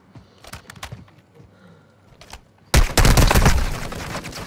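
Gunfire in the video game Call of Duty: Modern Warfare II, quiet clicks and thuds giving way to a sudden loud, dense burst of shots that keeps going to the end.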